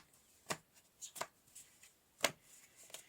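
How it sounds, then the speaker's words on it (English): A deck of oracle cards is shuffled by hand in a quiet room, giving a few short, crisp riffling bursts spaced about a second apart, close and soft. "we're going to pull a couple of cards, a couple of oracle cards to end the reading"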